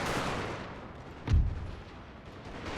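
Musket fire from the strategy game Napoleon: Total War, with troops shooting at grenadiers. A single heavy boom cuts through a steady battlefield wash.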